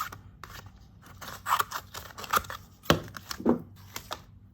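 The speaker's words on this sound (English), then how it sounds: "So I'm just going to do a rough cut here." Scissors snip a rough circle out of craft material for a game spinner wheel, a run of crisp irregular cuts and scrapes close by with brief pauses between strokes, alone without talk.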